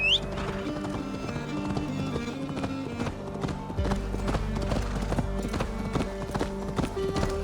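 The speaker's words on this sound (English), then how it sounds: "the horse should be able to make it" Horse hooves clip-clopping in the video game Assassin's Creed Valhalla, a steady rapid gallop rhythm under music and ambient game sound.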